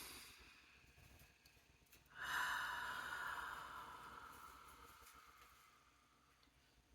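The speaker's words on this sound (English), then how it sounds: "let's take a deep breath together." A single deep breath drawn during a mindfulness prayer, a soft airy inhale that swells suddenly then slowly fades out, quiet and close with no talk.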